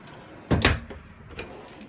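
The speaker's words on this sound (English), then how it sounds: "and even a wastebasket that pulls out" A pull-out wastebasket drawer in the kitchen island of an Open Range Roamer 376FBH RV slides open with a quick thump and rattle, then a fainter knock follows.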